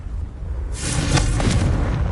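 A Confringo spell blast fires in the PS5 game Hogwarts Legacy, a sudden broadband burst that swells into a loud, rumbling explosion and keeps roaring to the end, with no talking.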